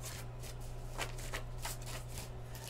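Tarot cards being split and shuffled by hand, a run of soft papery riffles and slaps at close range over a low steady hum, with no talking.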